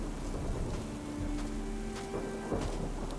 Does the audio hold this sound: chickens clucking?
no